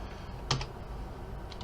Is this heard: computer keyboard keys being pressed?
yes